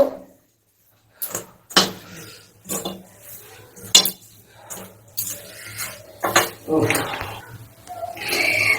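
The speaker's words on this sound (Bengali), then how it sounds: "ময়ানটা ভালো করে মিশিয়ে নেব" White vegetable oil being rubbed into flour dough by hand for radish kochuri, heard as intermittent close scraping, rubbing and clinking bursts with brief pauses, and no talking.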